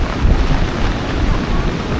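Strong, cold wind sweeping across Boracay Island on a rainy day, heard as a steady, loud broadband rush with low buffeting gusts against the microphone and no talk.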